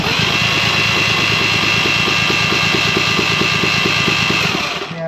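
A 1988 Johnson Evinrude 200hp outboard with carburetor and timing trouble runs loud and steady nearby, a continuous rough engine drone with fast pulsing that holds throughout and eases slightly at the very end.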